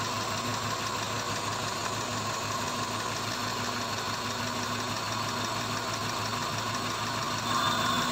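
A car engine idles with a high idle, giving a steady, continuous hum with a faint rattle that stays even throughout, close and alone with no talk.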